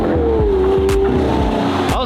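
A Lamborghini V12 engine revs in a string of rising and falling pulses, loud and close, with voices talking over it.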